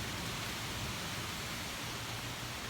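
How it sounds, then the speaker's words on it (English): Heavy rain pours down outside during a summer storm around a house shaded by big maple trees, a steady, even hiss of downpour with no talking. "We got a lot of rain coming down too."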